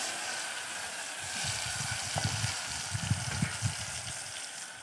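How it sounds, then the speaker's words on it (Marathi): Spices sizzle in hot oil for tempering a village-style jackfruit curry, a steady hiss with soft crackling pops rising midway, fairly quiet and without talk. "फोडणी दिला टाकला."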